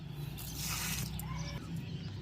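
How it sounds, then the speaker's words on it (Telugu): Water poured from a bucket onto rose plants in a garden, a steady close splashing and trickling stream lasting a couple of seconds with no talk. "ఈ వాటర్ మనం ఇంకా ఉన్న గులాబీ మొక్కలకి వేసుకుందాం"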